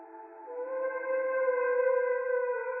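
A heavily processed vocal improvisation with formant pitching, a sustained, steady, siren-like tone with stacked harmonics that swells slightly and holds, smooth and continuous with no words.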